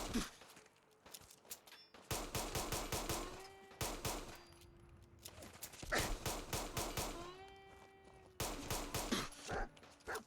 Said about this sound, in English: Who is shooting at me that can hit me?